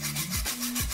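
A hacksaw rasps back and forth through a plastic mirror bracket riser for a Subaru WRX STi, three quick close strokes with no talking.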